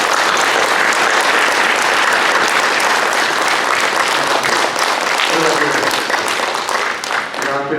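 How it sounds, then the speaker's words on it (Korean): A church congregation applauds loudly and steadily to welcome new members, dense clapping filling the room throughout before thinning near the end as voices and singing begin to emerge. "박수 크게 환영하겠습니다."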